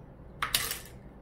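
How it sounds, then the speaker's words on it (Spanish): A metal spoon scrapes and clinks against a jar while scooping almond butter in a kitchen. It makes two quick, close scrapes that last about half a second. "Aquí raspando la cuchara para poder obtener la cucharada exacta de mantequilla de almendras."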